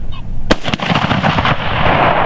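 A single loud shotgun blast at a pheasant hunt on an Alabama hunting preserve, a sharp crack followed by a second report and a long rumbling decay outdoors.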